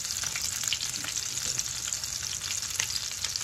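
Venison hamburger patties fry in hot oil in a pan, giving a continuous close sizzle with scattered crackles and pops throughout.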